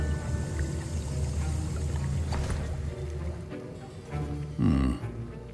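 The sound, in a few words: stirring a potion in a cauldron in video game Hogwarts Legacy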